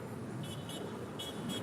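A few short, distant car horn toots sound in separate bursts over a low, steady rumble of traffic near LAX airport.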